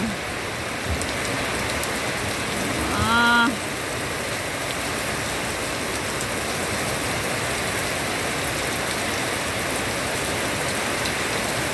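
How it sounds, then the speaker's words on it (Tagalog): Heavy typhoon rain from Typhoon Crising pours down in a dense, steady hiss throughout, with a brief tonal sound rising out of it early on. "Naririnig nyo ba? Ang lakas ng ulan."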